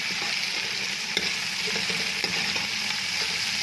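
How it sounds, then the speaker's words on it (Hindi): Garlic and ginger paste frying with lightly browned onions in a pan, a dense, even close sizzle with a few soft stirring taps, no talking. "अब हम इसमें डालेंगे लहसुन और अदरक का पेस्ट और 2 से 3 मिनट तक इसको फ्राई करेंगे अच्छी तरह से"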